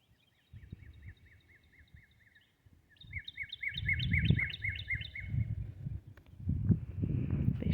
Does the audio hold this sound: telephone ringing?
no